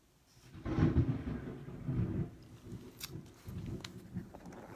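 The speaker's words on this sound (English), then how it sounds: "Did y'all hear that thunder? That shook the house." A deep rumble of thunder, heard from indoors, rolls in strong enough to shake the house, swells twice, then fades out through a low, muffled tail.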